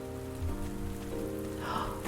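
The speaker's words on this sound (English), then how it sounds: "It's raining." Rain in the farming video game Pumpkin Days patters steadily beneath sustained musical tones from the game soundtrack, with a brief brighter chime near the end and no talking.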